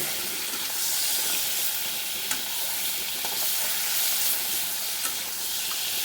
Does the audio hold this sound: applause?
no